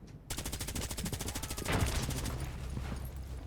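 Rapid automatic gunfire rattles in a first-person shooter match, a steady burst of evenly spaced shots that swells louder midway and trails into denser mixed fire, with no talk over it.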